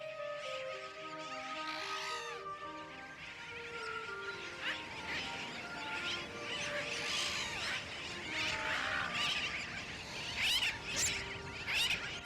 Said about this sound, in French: Ce jeune poussin d'une quinzaine de jours a faim. Il réclame.